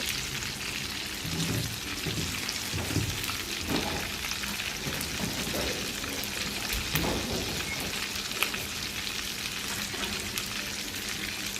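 Pieces of meat fry on a tawa, giving a dense, steady sizzle and crackle close by, broken by soft scraping and thuds as they are turned, with no voices over it.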